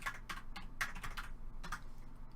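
Rapid typing on a Magegee K1 backlit metal gaming keyboard, a quick run of crisp clacky keystrokes in uneven bursts, close and alone.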